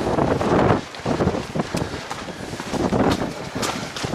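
Gusty wind buffets the microphone on a foggy tropical mountain trail in Guadeloupe, rising and falling in uneven rushes with brief lulls and some rustling, no voices.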